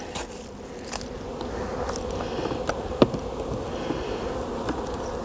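Honey bees hum steadily around an opened hive during early-spring splitting, a dense close buzz with a few sharp clicks and knocks from frames being handled, and no voices.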